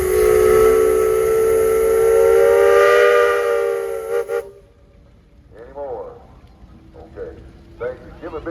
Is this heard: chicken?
no